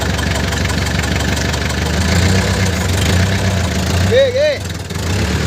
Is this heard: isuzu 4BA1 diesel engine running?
yes